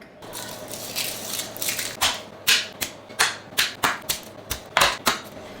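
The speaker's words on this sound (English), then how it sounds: "We're gonna cut up some garlic." A knife chops garlic on a cutting board in a kitchen, about a dozen sharp, close knocks that start sparse and quicken into a steady rhythm, with no voices over them.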